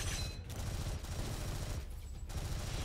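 Rapid bursts of weapon fire in the first-person shooter game Gunfire Reborn crackle continuously, with short pauses between volleys over a dense mix of game effects.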